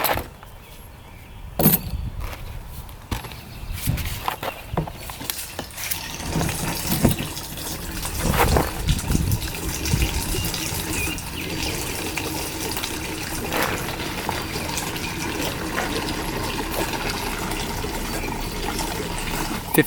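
Freshly mixed fuel gushing and gurgling through the fuel system of an old, long-abandoned fishing boat, a continuous close liquid rush with irregular splashy bursts and knocks.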